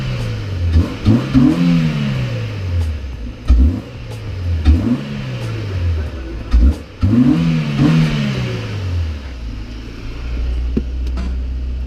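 A Honda Civic with a 1.5 engine and a catalytic converter revs repeatedly close by, each blip rising and falling with strong induction noise, in several bursts before settling to a low idle.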